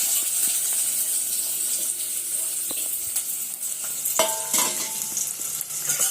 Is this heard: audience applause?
no